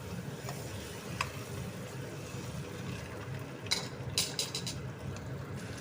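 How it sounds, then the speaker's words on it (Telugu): Eggs fry in a pan with salt, giving a constant, moderately quiet sizzle, with a few brief clicks and scrapes near the end. "ఇది చూడండి వేసి ఈ విధంగా ఫ్రై చేసుకుంటున్నాను"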